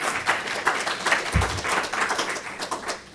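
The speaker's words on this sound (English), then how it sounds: "one more round of applause for Stellman and Greene" Audience applause for two guest speakers at a small professional meetup, a fairly sparse crowd of clapping hands with distinct individual claps and one low thump partway through.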